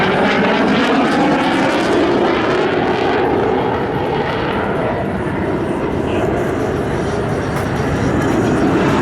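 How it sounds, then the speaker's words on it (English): A CAC Sabre swept-wing jet roars past at the Avalon Airshow, a loud, steady broadband engine rush that holds strong throughout with a slight swell and fade. "the lead aircraft smoke on there, the CAC Sabre"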